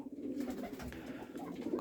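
Domestic pigeons coo softly in a village loft, low throaty purring calls rolling on continuously at close range with no talk over them.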